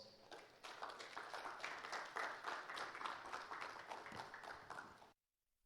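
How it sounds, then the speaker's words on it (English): An audience at a capital market master plan launch event claps steadily for about five seconds, a dense, moderately distant round of applause that stops abruptly. "Please welcome him with a round of applause."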